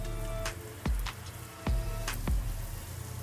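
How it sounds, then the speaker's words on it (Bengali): Homemade chicken popcorn pieces are dropped one at a time into hot oil, each landing with a soft plop and a low burst over a continuous, steady deep-fry sizzle heard up close. "এখন আমি এটিকে ডিপ ফ্রাই করতে নিয়ে যাচ্ছি।"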